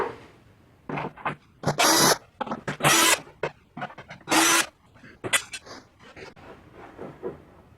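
Phillips screws come out of the top cover of a Lawn Boy lawn mower in short, close bursts of hissing, whirring mechanical noise separated by brief quiet gaps.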